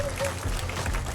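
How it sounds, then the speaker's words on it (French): A French audience at a dance-hall event with accordion music applauds loudly, a dense continuous clatter of many hands with brief overlapping voices underneath. "on peut l'applaudir très très fort"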